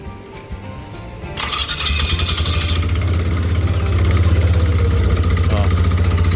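The engine of a Water Buffalo 4 series CVT farm transporter cranks and fires into a loud, close, steady idle with a rhythmic chug, heard during repair work on an unusual noise.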